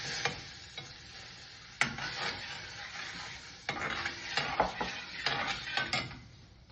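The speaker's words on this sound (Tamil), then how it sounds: "இப்ப நான் இதுல பால் விட போறேன்." Milk goes into roasted semolina in a hot pan for milk kesari, and a close, busy sizzle swells in bursts with scraping stirs and a few sharp utensil knocks, and no one speaks.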